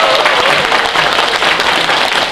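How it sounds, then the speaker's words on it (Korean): Dense, continuous applause from a party rally audience in a hall, many hands clapping at once in a steady wash without a break. "우리 황용희 협의회장님께 다시 한번 큰 박수 부탁드립니다."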